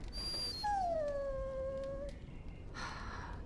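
A dog in Dragon Age Origins lets out a single drawn-out whimpering howl that slides downward over about two seconds. A softer rustle follows, with no talk over it.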